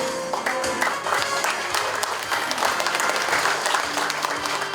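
An audience applauds at a ceremony marking the 73rd anniversary of the Korean War, dense sustained clapping from a large crowd filling the whole stretch at an even level.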